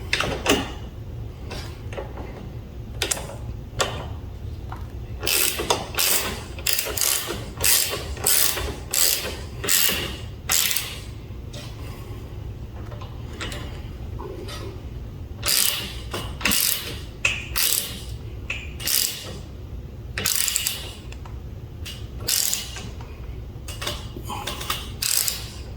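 Ratchet wrench tightening a bolt into a Heli-Coil thread insert repair, giving repeated bursts of sharp metallic clicking, close and loud, with short pauses between strokes and no talk.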